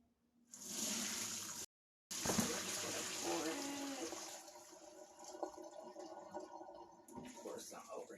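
Popcorn grain poured onto a mesh rack to strain gives a loud, close rushing patter for about a second, pauses, then runs again and thins into scattered trickles and small rattles, with light talk underneath.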